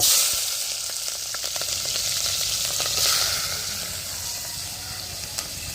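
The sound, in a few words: green chillies and onions frying in hot oil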